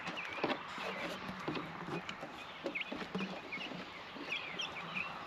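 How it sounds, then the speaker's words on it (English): Small chickens settling into a new home on grass, giving soft scattered clucks and chirps at close range over a faint outdoor background, with no clear talk. "Two of the little chickens are trying to coax her out."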